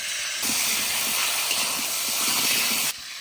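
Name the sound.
potatoes frying in leftover fish-frying oil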